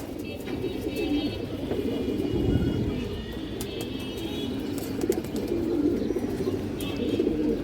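A Giribaz pigeon coos softly nearby in low, murmuring pulses that recur over a faint background hum, with a few light clicks and no talking.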